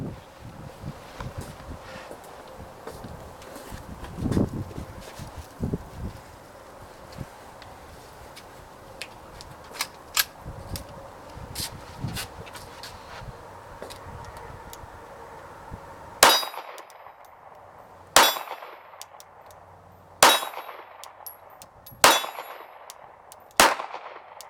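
Glock 42 pistol shots striking steel targets outdoors, a run of sharp metallic clangs, each ringing briefly, the last several spaced about two seconds apart and loud against a quiet, windy background.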